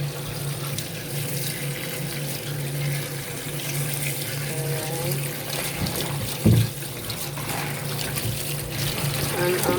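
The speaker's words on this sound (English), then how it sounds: "I'm going to wash my veg" Vegetables are rinsed leaf by leaf under a running kitchen tap, a steady close hiss of water with faint splashes and a brief knock partway through.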